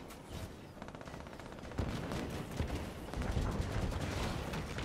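Sustained automatic fire from a chain gun in the Halo 5 video game, dense rattling bursts that build slightly in loudness over the stretch, heard up close with other game effects mixed in.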